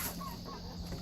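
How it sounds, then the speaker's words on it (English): A black silkie chicken on a homestead gives short soft clucks amid steady outdoor background noise, with no talking. "That's a silky right here, a black silky."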